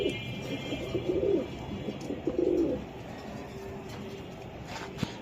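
Pigeons coo in low, soft bursts at a pigeon sale where an Iranian pigeon is shown, with a steady background hum and occasional faint chirps and clicks.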